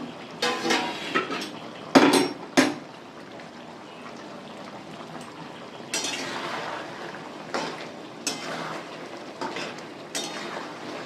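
A pot lid clanks and rattles against the rim of a cooking pot of fennel chicken, with a few sharp metallic knocks near the start and lighter scattered taps later over a quiet kitchen background.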